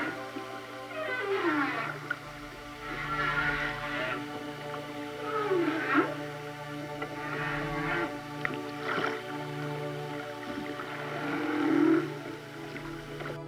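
Humpback whales call underwater in long, sliding moans and whooping tones that rise and fall, several overlapping cries spread across a steady watery background, with no voices.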